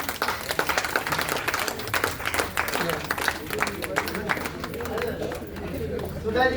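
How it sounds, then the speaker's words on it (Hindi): Applause at a Hindi literary society's annual celebration greets the unveiling of an anthology's title, a dense rippling crowd clapping with voices talking over and after it. "शीर्षक का लोकार्पण के लिए एक बार तालियां हो जाती।"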